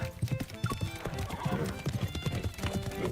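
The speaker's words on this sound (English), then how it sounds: "I dig my heels into my horse's sides to make it gallop" A galloping horse in a dramatized scene, rhythmic hoofbeat clip-clop running steadily throughout with a whinny near the start, layered under a music bed.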